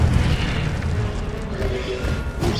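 An Incendio fire spell blasts in Hogwarts Legacy, a heavy, booming burst with crackling low rumble that holds loud through the clip, with a second surge near the end.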